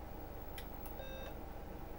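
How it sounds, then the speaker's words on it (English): An Acorn Electron home computer gives a short startup beep as it powers on, a faint thin tone standing alone over a steady background hiss. "Lovely little beep."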